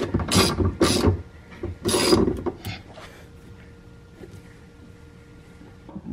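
A hand ratchet tightening the bolts of a rear brace on a Mk7 Golf R, several loud close clicking strokes at the start, then quieter intermittent clicks and faint handling noise.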